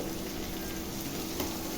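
Onion and garlic frying in oil with dried fish (shutki) going into the pan, giving a steady, close hiss of sizzling that holds evenly throughout with no voices.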